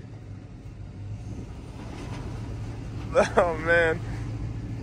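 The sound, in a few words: Chevy OBS truck driving up a steep ramp in four-wheel drive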